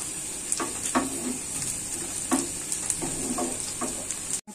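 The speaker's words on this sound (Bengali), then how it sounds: "পেঁয়াজ আর রসুন সব ভাজা লাল হয়ে গিয়েছে" Onion and garlic fry and sizzle in hot oil in a pan, browning as a tempering for dal, with a steady hiss. Occasional scraping stirs break through the sizzle at intervals.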